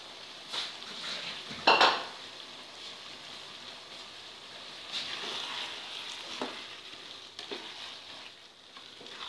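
Minced meat fries with potatoes and peas in a pan, a continuous sizzle under repeated stirring scrapes and metallic clinks of a utensil against the pan, with one louder clatter early on, and no talk.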